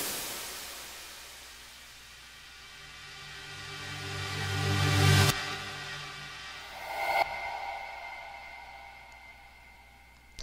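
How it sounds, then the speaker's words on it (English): Electronic sound effects drenched in heavy reverb, made for an electro house track: a slowly rising swell that ends in a sharp cut, then a second hit with a long, washy tail and a final burst. "And some more effects with a lot of reverb."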